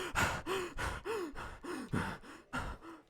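A voice imitates the slow, heavy breathing of a large creature, a run of about six drawn-out rasping breaths at a steady pace, close and alone.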